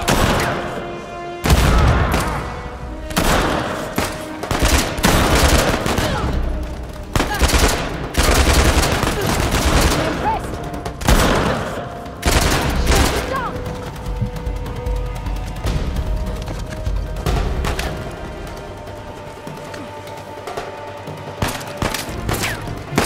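Gunfire in the video game Uncharted: The Lost Legacy, a dense fusillade of rapid shots and thuds that runs nearly the whole way through with brief lulls, loud and close, with occasional voices mixed in.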